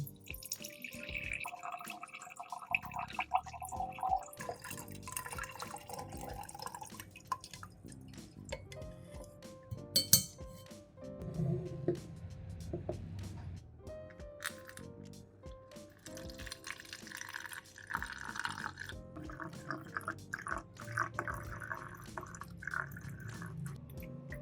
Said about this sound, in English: Use a funnel to pour the mixture into a spray bottle.